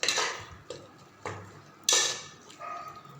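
A spoon scrapes and clinks in a pot while spices are mixed into a Kongu-style rice and lentil dish, with about four separate stirring strokes spaced a little over half a second apart, close and fairly quiet.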